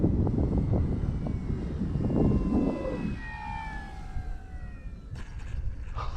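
The small engine of an FMS PC-21 Pilatus RC model airplane whines overhead, its pitch sliding downward as it passes, over steady outdoor background noise.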